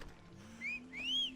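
A player's whistle calls a horse in the Assassin's Creed Odyssey video game: two faint, rising tonal whistles, the second longer and higher, over a quiet hum.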